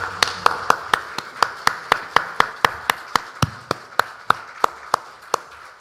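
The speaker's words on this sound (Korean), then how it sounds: "하나님께 영광의 박수를 올려드리겠습니다" A church congregation at a Sunday worship service claps in unison, with sharp, even beats at a brisk, regular tempo that carry on throughout without talk.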